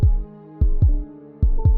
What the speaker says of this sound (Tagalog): Ramdam ko ang bawat tibok ng puso ko.